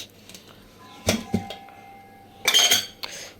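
Clanking of a metal pot and strainer while draining boiled colocasia (taro) in a kitchen, a few sharp metallic clinks and knocks separated by quiet gaps.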